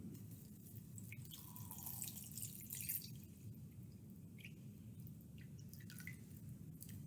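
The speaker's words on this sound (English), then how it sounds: "let's pour water in to cover them" Water is poured over leaves in a container while a frozen suncatcher ornament is being made, giving soft, quiet trickling and scattered small drips against a faint steady background hiss, with no talk.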